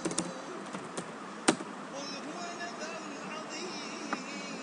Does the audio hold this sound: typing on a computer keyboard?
yes